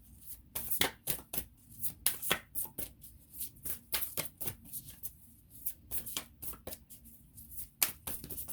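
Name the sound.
shuffling and pulling a card from a Sufi oracle deck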